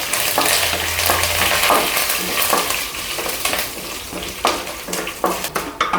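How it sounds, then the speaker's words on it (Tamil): Dried red chillies, curry leaves and ginger frying in oil, a close crackling sizzle with frequent stirring taps and scrapes against the pan, growing more spattery toward the end. "இது காஞ்ச மிளகா நல்லா பொறிஞ்சு வரட்டும்"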